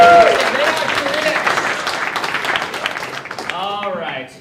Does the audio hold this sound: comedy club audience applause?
yes